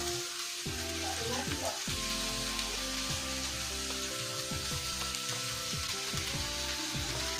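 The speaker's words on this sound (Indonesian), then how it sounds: "Nah, udahnya baru itu masukkan tahu gorengnya. Aduk-aduk lagi sampai semuanya tercampur merata ya." Fried tofu stir-fried in a pan with tomato and scallions, a steady soft sizzle with occasional scraping and stirring, fairly quiet, under background music.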